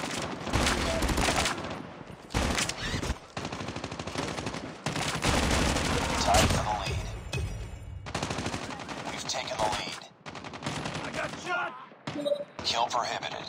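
Rapid gunfire bursts and automatic weapon fire in a Call of Duty kill confirmed match, loud and near, in repeated bursts with brief gaps, mixed with in-game voice callouts.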